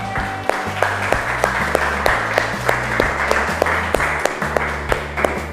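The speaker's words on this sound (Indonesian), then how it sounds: "Tepuk tangan dulu dong buat kita semua." Students in a classroom clap together at the close of a lesson, a sustained patter of hands with distinct sharp claps, set over a steady looping rhythmic music bed.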